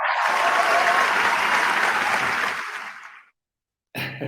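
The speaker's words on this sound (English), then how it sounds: "I don't have a drum roll, but I have an applause" Applause sound effect, a dense burst of crowd clapping and cheering that holds strongly for about two and a half seconds, then fades out into silence before talk resumes.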